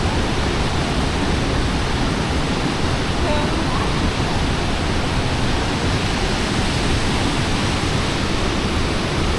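Large waterfalls on the Brazil–Argentina border pour with a loud, dense, unbroken roar that fills the whole stretch of sound, heard close and at a steady level.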